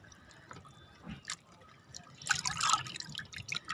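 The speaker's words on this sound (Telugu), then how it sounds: "కొంచెం నీళ్ళల్లో పెట్టి తీస్తా." Water drips and trickles off plant roots just lifted from a container of water while hibiscus plants are repotted, with scattered splashes that grow busier toward the end, close by and with no talking.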